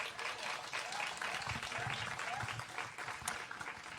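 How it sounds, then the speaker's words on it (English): An audience applauds in honor of a retiree named Jill at a cultural diversity celebration, steady moderate clapping heard from some distance for a few seconds. "let's give her another round of applause"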